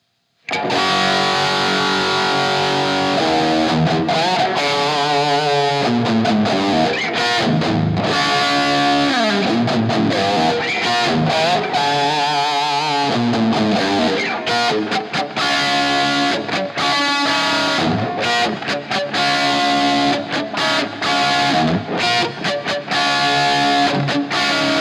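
Electronic synth tones drenched in added reverb, playing continuously and loudly for the whole stretch with shifting layered textures and distorted edges, no voices.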